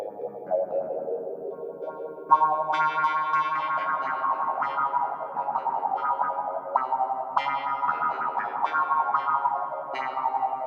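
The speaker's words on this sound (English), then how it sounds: "let's get the wah, for instance, with loads of delay and reverb" A Yamaha Reface CP keyboard plays a synthy, clav-like line run through heavy effects: a wah sweep, thick delay repeats and washy reverb, steady and fairly loud with no talk.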